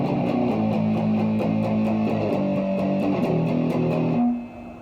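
Electric guitar with light effects plays tenth-interval chord shapes, moving down the fretboard in a steady strummed rhythm, then fades into a quiet tail.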